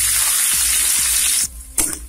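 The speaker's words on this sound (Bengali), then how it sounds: "পেঁয়াজগুলো ব্রাউন না হওয়া পর্যন্ত ভেজে নেব" Chopped onions fry in hot oil with cinnamon, cardamom and cumin in a wok, giving a loud, close hissing sizzle that drops away abruptly, then returns briefly in a short burst.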